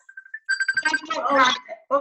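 A mobile phone ringtone chimes as a run of short repeated tones, then people begin talking over it nearby.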